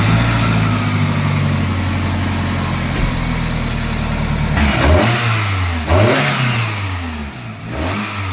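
Toyota Camry with a carbon fiber intake, engine held at a steady high hum and then blipped in three quick revs that each climb and fall back, loud and close with no talking.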